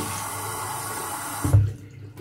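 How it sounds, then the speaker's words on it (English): Water runs from a tap as oil is washed off hands at a sink, a steady close splashing rush that swells briefly near the end and then cuts off abruptly, leaving quiet. "Wash the oil off my hands."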